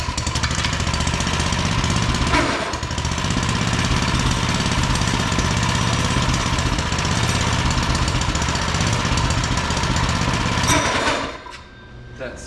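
A mini bike engine runs steadily and loudly up close with a rough, knocking drone, then cuts out abruptly near the end.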